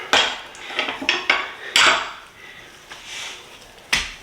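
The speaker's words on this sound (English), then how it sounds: "And then we'll turn our pork chops over." Pork chops turned over in a pan with tongs, a series of sharp metallic clanks and scrapes against the cookware, a few close together then a pause and one final clatter, no voices.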